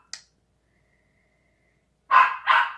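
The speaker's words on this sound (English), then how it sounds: "dog, sorry." A dog barks twice in quick succession, loud and close, after a brief faint sound and a long quiet gap.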